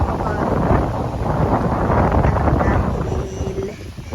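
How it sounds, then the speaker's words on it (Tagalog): Gusty wind buffets the microphone in a loud, continuous low rumble that barely lets up. "Mahangin."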